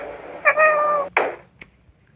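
A cat meows once, a clear, close, harmonic mew in a cat simulator video game, followed by a brief soft thump and quiet after.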